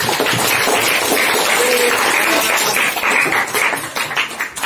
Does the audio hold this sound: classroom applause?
yes